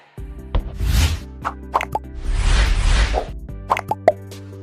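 LinkedIn app notification logo sound, a short electronic chime of plopping tonal notes over sustained synth tones, with breathy noise bursts in between; close and clear, no talking.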